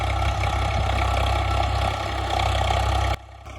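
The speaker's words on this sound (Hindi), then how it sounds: "हमने ट्रैक्टर को चलाया हाई के फर्स्ट गियर में और इसकी आरपीएम रखे 1600 से 1700।" An old-model Swaraj 855 FE tractor engine running in high first gear at roughly 1600–1700 rpm during a field power test, a steady loud diesel drone that drops abruptly near the end.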